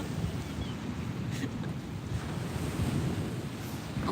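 Atlantic Ocean surf before sunrise, a steady broad roar of waves washing ashore with wind buffeting the microphone throughout, loud and continuous with no distinct individual breaks.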